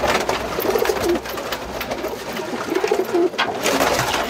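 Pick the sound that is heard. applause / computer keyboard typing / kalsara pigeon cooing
kalsara pigeon cooing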